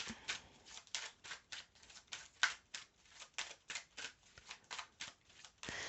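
Tarot cards are shuffled by hand in a steady run of quick riffling, flicking pulses, close and moderately quiet, with no one speaking.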